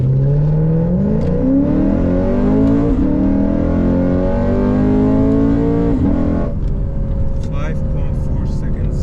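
A Lexus RC F with an Invidia exhaust accelerating hard from a standstill in sport mode with traction control off, its V8 note climbing loud and continuous through rising revs with brief dips at each upshift.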